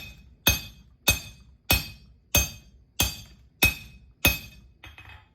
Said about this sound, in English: Hammer it a little bit.